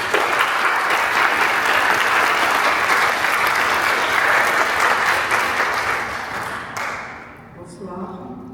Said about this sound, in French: Je vous demande d'applaudir Madame Zineb Doulfikar.